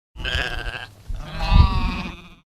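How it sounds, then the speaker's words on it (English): Two close, loud bleats from sheep, livestock of the Navajo economy, follow each other in quick succession, the second longer and wavering. "Sheep."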